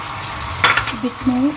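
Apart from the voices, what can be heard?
stirring and cooking corn flour slurry into Chicken Manchurian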